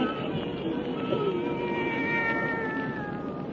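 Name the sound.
black cat meowing, radio drama sound effect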